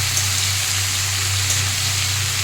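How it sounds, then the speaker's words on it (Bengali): Cucumber and shrimp fry in a pan, a loud, steady hiss of sizzling oil that continues without a break. "না ভালো করে ভেজে এবার ঢাকা দিয়ে দেবো।"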